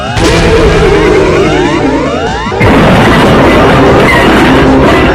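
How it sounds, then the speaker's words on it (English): A wall blowing up in a game, heard as a loud crashing boom that lands about halfway through, over a dense rumbling and clattering noise that fills the whole clip. "The wall exploded and killed Jimmy, Hank, Lenny, Harvey, Sydney, Martin and Martha"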